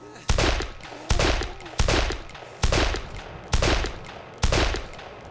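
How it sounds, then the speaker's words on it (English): Six loud, evenly spaced gunshots ring out in the DayZ Namalsk video game, each a sharp crack with a short decaying tail, close and dominant. "Shot him in the head several times."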